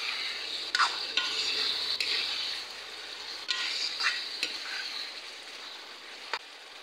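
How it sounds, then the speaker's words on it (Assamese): Fish and spinach with turmeric and salt are stirred together in a pan, giving soft repeated scrapes and light clinks over a low, steady sizzle. "এতিয়া মই সকলোবোৰ ধুনীয়াকৈ আকৌ মিক্স কৰি ল'ম।"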